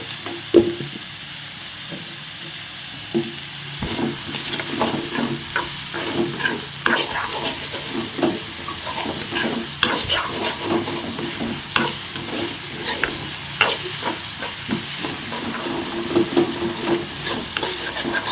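Carrots, beans and prawn masala rice fry in a heavy-bottomed pan while a spoon stirs and scrapes continuously, producing frequent clattering knocks over a constant sizzle.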